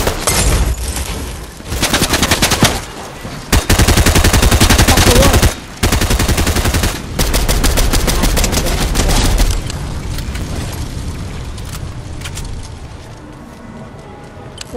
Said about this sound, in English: Somebody's trying to shoot me in the face.